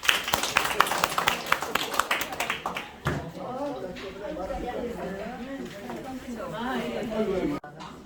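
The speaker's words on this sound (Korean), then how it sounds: "박수로 영광 돌립니다." Church congregation clapping at a pastors' association inauguration service, a dense patter of many hands over the first three seconds, then fading as voices talk over the room.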